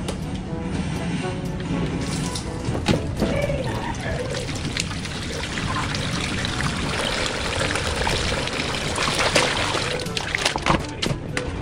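Washed clothes are soaked in water with Downy fabric softener, giving close, continuous pouring and sloshing water with occasional splashes.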